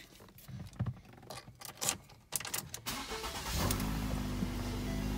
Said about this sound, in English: I'll start it up for you here.